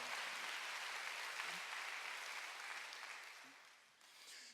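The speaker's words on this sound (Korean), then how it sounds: "빨리 박수. 하나님이 도와준다니까." Church congregation clapping together during a sermon, a dense steady burst of applause that fades out near the end, with no talk over it.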